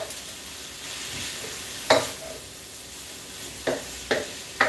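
Shrimp fried rice sizzles steadily in a pan at a low, even hiss, with a few sharp scraping stirs of a utensil breaking through near the end.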